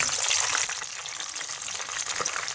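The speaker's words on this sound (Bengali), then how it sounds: "ঘুরিয়ে ঘুরিয়ে একটু ভেজে নিলাম এবার আমি উল্টে দিচ্ছি" A whole cauliflower fries in hot oil in a pan, giving a steady, close bright sizzle with crackling bubbles throughout and no talking.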